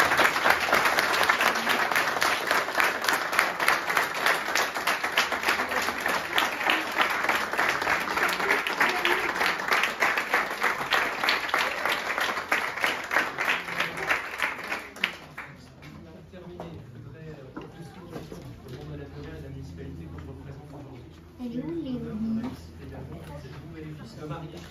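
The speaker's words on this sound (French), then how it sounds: "Applaudir." Applause at a town hall ceremony, a room of people clapping steadily for about fifteen seconds before dying away into quiet room sound and a brief murmur.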